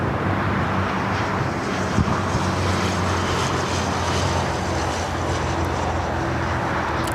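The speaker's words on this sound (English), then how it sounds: "Air China starting takeoff roll on the north side." An Air China airliner beginning its takeoff roll on the north side runway at LAX, a broad steady engine roar heard from a distance under wind noise, holding constant throughout.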